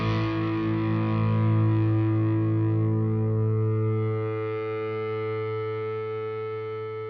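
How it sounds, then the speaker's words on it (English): Distorted electric guitar through a Freakout pedal holds a sustained, buzzing chord that rings out with rich harmonics and swelling feedback, slowly fading over several seconds with no talking. "Again, some feedback there from the Freakout pedal."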